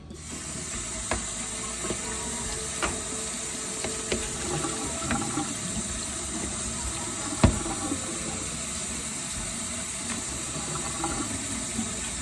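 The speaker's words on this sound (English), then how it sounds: "Alright, I have rinsed the green beans" Canned green beans are rinsed under running tap water in a sink, a steady close hiss and splash of flowing water with occasional clinks and rattles of the can or strainer, and no voices.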